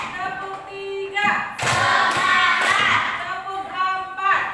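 A group of children in an Indonesian classroom clap in a counted clap routine, delivering a short burst of sharp, rhythmic hand claps between a teacher's spoken cues.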